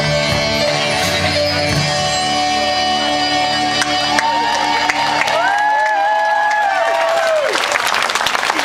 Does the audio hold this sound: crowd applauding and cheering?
yes